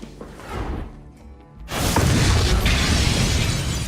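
An explosion in a Breaking Bad scene: after a quieter stretch, a sudden loud blast bursts in and rolls on as a dense, sustained roar to the end.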